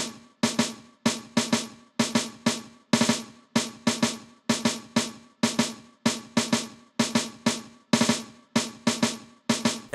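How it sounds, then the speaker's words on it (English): Simple snare pattern from the Ultra Beat Indie Live kit playing over a chord progression, with sharp crisp hits in a steady repeating rhythm, roughly two per second, clear and upfront throughout. "I played this very simple snare pattern that I thought went really well with the chord progression and the main melody."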